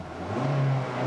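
A buzzy 1.6-liter four-cylinder engine in a 2018 Kia Rio EX revs briefly, a steady mid-pitched drone swelling for under a second with no talk.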